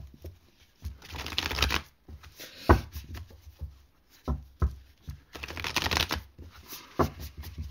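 Tarot and oracle card decks are shuffled by hand in several bursts of riffling and flicking, close up, with short pauses between and no talk.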